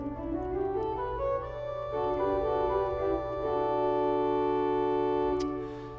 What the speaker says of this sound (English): we talked a little bit about the principal pipes on the organ